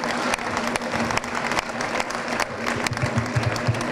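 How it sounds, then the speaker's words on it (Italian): A hall audience at a Matteo Salvini political event breaks into loud, continuous applause, dense clapping with a low hum underneath and a few sharp claps standing out. "Un applauso a questi 20 eroi?"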